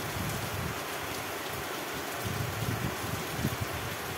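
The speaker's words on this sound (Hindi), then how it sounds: "बहुत ज़ोरों पे बारिश हो रहा है" Heavy rain pours down in a steady, dense hiss, with occasional louder drops close by and no talking.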